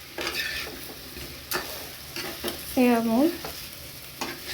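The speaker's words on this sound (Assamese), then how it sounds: "মছলা ড্ৰাই কঁঠাল ভাজি" Dry masala jackfruit being stir-fried in a little oil, with repeated scraping stirs over a soft sizzle and a brief voice speaking in between.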